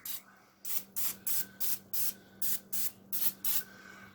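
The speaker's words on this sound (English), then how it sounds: "I'm just going to give them just a quick spray anywhere it's white." About ten short hissing bursts of olive oil spray onto chicken wings in a quick, steady rhythm, close to the microphone over a faint low hum.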